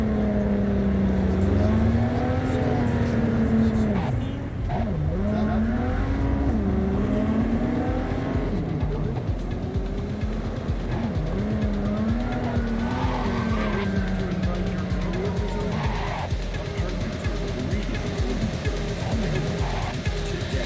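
A car engine in Cyberpunk 2077 roars and revs continuously while tires squeal and skid, loud and close, like a fast car racing around corners.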